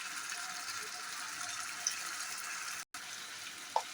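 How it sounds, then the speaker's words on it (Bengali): Water poured into a pan of chicken fry, a steady hissing pour that runs almost unbroken, cut by one short gap near the end. "আমি একটু জল অ্যাড করছি, একটু গ্রেভি থাকবে সেরকম করছি।"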